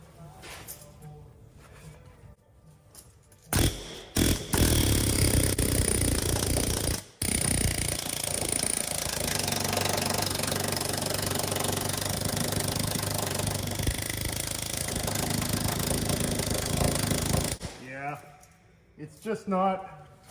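A worn wire brush wheel grinds rust and scale off metal with a loud, continuous, rough whine lasting about fourteen seconds. It cuts out briefly once partway through, and quieter handling sounds come before and after.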